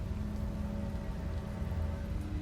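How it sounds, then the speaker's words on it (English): Steady rain falling in the video game Slay the Princess, a continuous dense patter with low rumbling undertones, close and even throughout with no voices. "It's raining. It wasn't raining last time."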